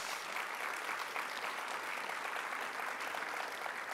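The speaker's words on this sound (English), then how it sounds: "I think we have to applaud all the ones who are coming from far away." An audience applauds visiting G7 delegates at an official gathering, steady moderate clapping from many hands that runs evenly throughout without voices.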